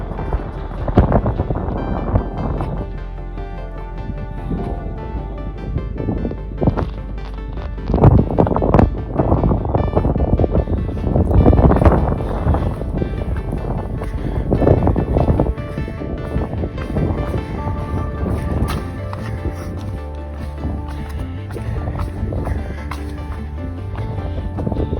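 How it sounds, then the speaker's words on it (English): Strong wind buffeting the microphone on the open summit of Mount Marcy, loud continuous gusting roar with rumbling low buffets, steady and close for the whole stretch. "It's windy up here."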